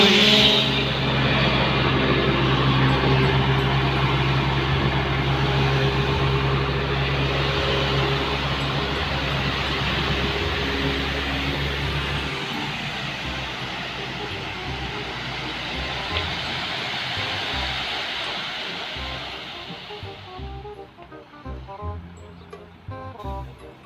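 A UD GDE330 single-axle tractor truck hauling a 29-ton load of sand roars loudly and steadily with a dense exhaust drone, gradually easing and fading toward the end.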